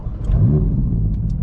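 A Ferrari's 3.9-litre twin-turbocharged V8 revs up in a short, loud, close burst, the engine note rising quickly and then holding a steady growl.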